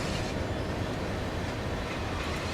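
A simulated freight train in Train Sim World 5 rolls slowly at about 10 mph through the Acton sidings on the West Coast line, giving a steady, dense rumble and rail noise that holds evenly throughout.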